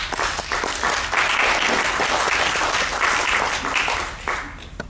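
Sustained audience applause for Bernard Delemotte at a talk on foreigners' voting rights, dense clapping from a large crowd that swells after the first second and holds steady, fading slightly at the end.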